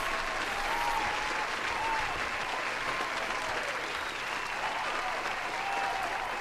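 Steady applause from a small crowd, a dense even clatter of clapping hands that holds at the same level for several seconds with no voices over it.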